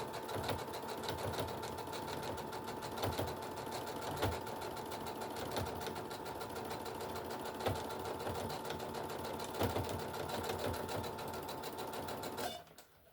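Close sewing machine running steadily while stitching a pocket, a fast, even mechanical whir and rattle with faint periodic knocks, stopping abruptly at the end, with no talking.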